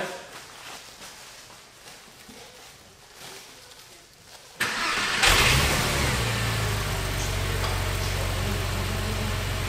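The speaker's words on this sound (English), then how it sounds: "Alright, so car's running perfectly." A Porsche 911 engine cranks and catches with a sudden roar, then settles into a steady, loud running idle close by.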